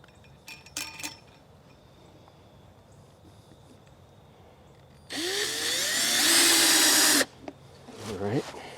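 A cordless power driver runs one steady, loud burst of about two seconds while a screw goes into an antenna switch enclosure. Light metallic clinks are heard earlier, and quiet background sounds surround it.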